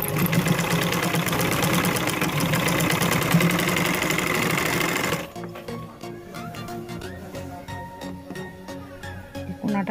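A sewing machine stitches a folded zipper strip onto the neckline of a maxi dress, a steady fast mechanical whir for about five seconds that then stops, leaving quieter handling clicks and rustles.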